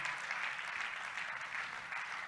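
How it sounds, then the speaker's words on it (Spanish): Steady applause from a church congregation praising the Lord, a dense continuous patter of clapping hands holding an even level throughout without pauses. "le damos palmas de alabanza al Señor"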